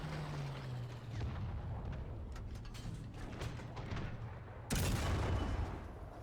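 Tank cannon fire in a tank combat video game: a low engine rumble with scattered distant gunfire, then one loud, close, heavy cannon boom near the end.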